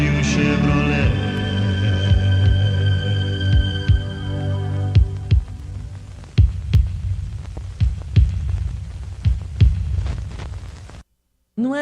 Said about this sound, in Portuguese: No final, né? A batida do coração.